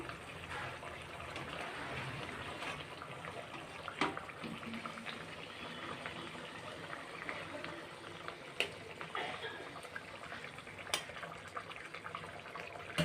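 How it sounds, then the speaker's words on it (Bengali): Water for an egg curry simmers and bubbles softly in a pot, a faint continuous burble with occasional small pops and clinks. "জলটা এখন ফুটে যাচ্ছে"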